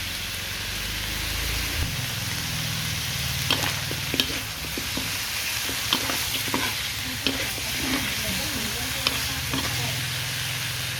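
Eel meat being stir-fried in a pan gives a dense, steady sizzle throughout, punctuated by repeated scraping and tapping strokes of a spatula, close and continuous with no talking.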